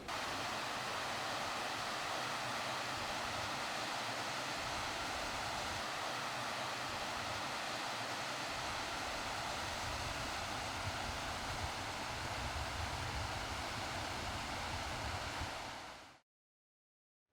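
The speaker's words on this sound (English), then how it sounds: "Water is at last flowing." Water pours over the spillway of a dam on the River Dodder, a steady, dense, loud rushing roar that continues unchanged for about sixteen seconds before cutting off.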